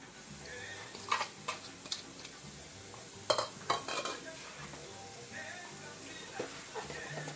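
Onion frying in a small frying pan, a soft steady sizzle broken by repeated clinks and scrapes of a utensil stirring against the pan, close up.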